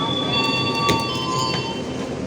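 A passenger train on the Pangandaran panoramic line in Indonesia gives off a steady rumble with faint, high wheel squeals at a station, heard from nearby with no talk over it.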